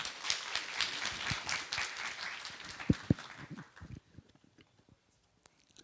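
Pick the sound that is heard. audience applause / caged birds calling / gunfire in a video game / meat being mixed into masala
audience applause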